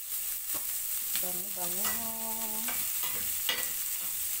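Vegetables sizzle in a frying pan while being stirred, with steady broadband crackle and occasional scrapes of a utensil, plus a brief tonal voice-like hum in the middle; a person speaks briefly over it.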